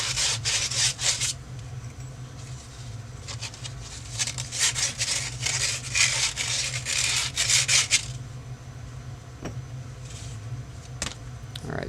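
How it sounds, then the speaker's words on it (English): Sandpaper scrapes brass pen tubes in quick, rhythmic back-and-forth rasps, close and fairly loud over a low steady hum, then trails off into a few scattered strokes near the end. "scraping it up with some sandpaper makes it a good rough edge"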